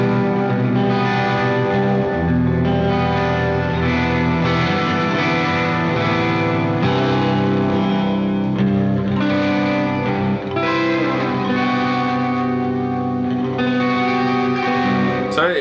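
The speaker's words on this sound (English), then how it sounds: "that's a more traditional kind of reverby sort of sound that you can get out of it" An electric guitar plays sustained chords through reverb and distortion pedals, with washy, echoing tails blending each strum into the next.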